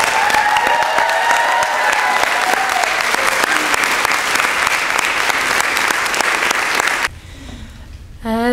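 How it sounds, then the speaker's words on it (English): Sustained, loud applause from a commencement audience for graduates, dense clapping with some crowd noise for about seven seconds before cutting off abruptly into quieter sound. "round of applause"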